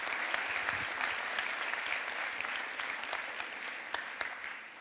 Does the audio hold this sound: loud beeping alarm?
no